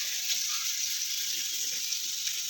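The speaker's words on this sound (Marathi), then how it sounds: "आणि हे बघा म्हणता फ्राय करते पॉपलेट" Pomfret fish frying in a pan with masala coating, a steady close sizzle of hot oil that holds evenly throughout with no talk over it.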